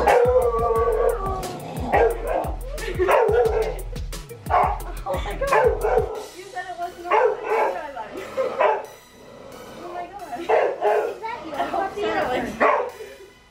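A Chihuahua barks in quick yips and howls close by, loud repeated bursts through the first half, then higher whimpering howls continue while people talk over it.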